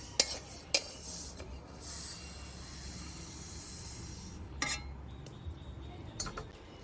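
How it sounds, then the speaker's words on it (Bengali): Roasted moong dal is tipped from a pan into a pot, with a few clinks of metal and a soft rushing pour and sizzle, followed by more scattered clinks of utensils on cookware. "এবার আমি ডালগুলো ঢেলে নিচ্ছি।"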